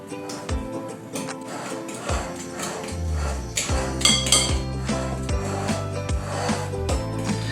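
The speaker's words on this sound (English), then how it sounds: "So you want to cut the shortening right into the flour." A fork scrapes and clinks against a mixing bowl as shortening is cut into flour for Fisher State Fair scones, a run of close, repeated scraping strokes with metallic taps and a steady low hum beneath.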